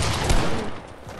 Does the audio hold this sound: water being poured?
no